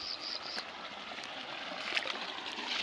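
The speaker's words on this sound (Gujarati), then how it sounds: "અહીંયા પણ જો આપણું પાણી ચાલુ થઈ ગયું છે" Irrigation water running through a field channel in a crop field, a steady soft rushing and trickling flow with no talk.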